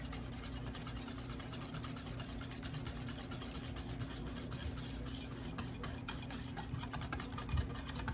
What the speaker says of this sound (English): Now let's get this stirred up a little bit with my whisk.